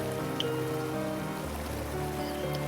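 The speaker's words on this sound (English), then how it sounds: "rain began to pour heavily" Heavy rain pours in a steady, dense hiss of falling water that continues without a break, with no voices.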